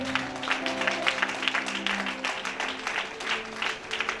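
A church congregation breaks into sustained rhythmic clapping to acclaim God, dense and close, with faint tonal sound running underneath.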